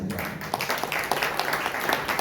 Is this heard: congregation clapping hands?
yes